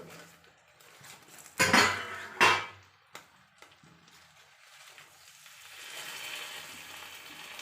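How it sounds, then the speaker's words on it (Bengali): A metal plate used as a lid clanks twice as it is lifted off a pan of fish frying on a gas stove, with a lighter clink after, then a soft frying hiss. "এই দেখো এবার আমি থালাটা তুলে নিলাম।"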